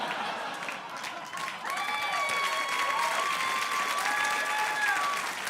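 A studio audience at a late-night talk show applauds loudly and steadily, with a dense wash of clapping and crowd noise sustained throughout and swelling slightly partway through.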